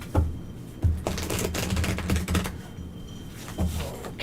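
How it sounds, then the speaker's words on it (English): Tarot cards being shuffled during a reading, giving a run of soft papery riffles and taps with a few sharper bursts, close and fairly quiet with no talking. "All right, one more shuffle."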